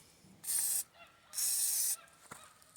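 Two hissing bursts from a WD-40 aerosol can sprayed into engine block cylinders, each about half a second to a second long, close by, followed by a faint click.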